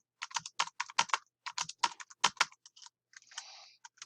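Rapid typing on a computer keyboard, close, crisp clusters of key clicks in irregular bursts with short pauses and a slightly longer clattering run near the end, no voices.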